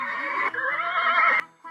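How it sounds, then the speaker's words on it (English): A horse neighs in one loud, close whinny with a shaky, pitched tone that breaks off abruptly, followed by a brief short snort. "horse."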